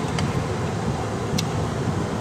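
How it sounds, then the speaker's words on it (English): A car's engine idles as it warms up in cold weather, a steady low rumble with broadband hiss holding at an even level throughout, close by and alone with no talking. "I'm waiting for my car to warm up."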